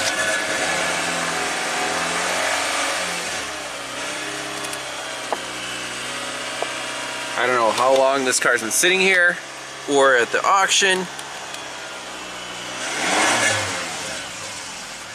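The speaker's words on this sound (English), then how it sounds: "We're going to give it some throttle." A long-parked auction Toyota Camry, previously a no-start, runs with a steady mid-pitched engine drone and a swell of throttle toward the end, while someone talks over it.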